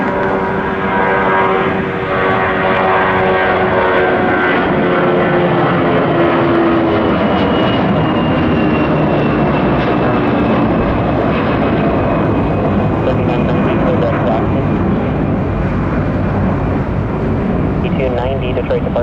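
A passenger airliner takes off at Detroit Metro Airport with a loud, sustained jet roar and a whine that slowly falls in pitch, filling the whole stretch while radio chatter plays underneath.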